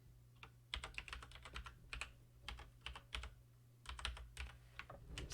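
Rapid typing on a computer keyboard in bursts of close, crisp key clicks with short pauses between words, steady low hum underneath and no voices.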